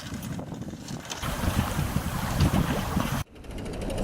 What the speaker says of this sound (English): Howard, Roger and Alex immediately set sail for the Isle of Skye